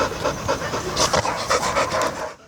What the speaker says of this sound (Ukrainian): Німецька вівчарка Кайдо, якій півтора роки